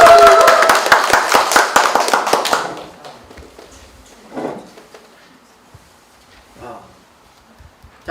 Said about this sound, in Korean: 환영의 박수를 부탁드립니다